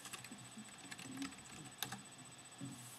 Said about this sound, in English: you'll be asked to ask, type in your password